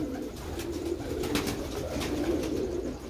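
Sialkoti pearl pigeons coo in soft, repeated low throaty rolls, steady and close, with a faint hiss of background noise and no talking.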